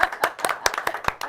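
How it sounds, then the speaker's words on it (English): A small audience at an El Monte evening show with a blues band claps for a brief moment, a handful of nearby hands giving sharp, uneven claps. "give her a round of applause"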